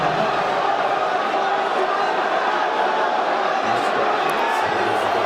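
Fight night arena crowd roaring continuously at close range, a dense wash of cheering and shouts that holds steady throughout with a commentator talking over it.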